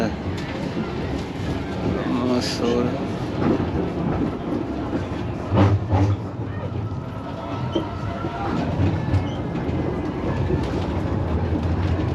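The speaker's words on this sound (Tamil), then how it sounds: "இது ரயில்வே ஸ்டேஷன் தானே" A train rumbles and clatters steadily nearby at a railway station in Amsterdam, with squeals and hiss over a constant low roar, and faint voices in the background.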